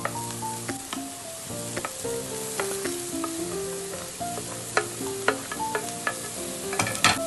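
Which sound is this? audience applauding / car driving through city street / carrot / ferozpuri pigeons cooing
carrot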